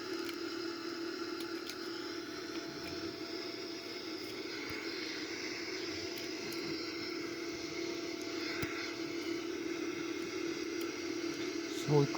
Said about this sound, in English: a very nice view of the cockpit here, all the instruments, the Boeing 787 as we are flying